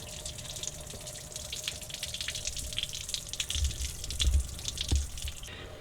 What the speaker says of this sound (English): I'm just letting it drain out slowly and trying to catch as much of the antifreeze and coolant as I can.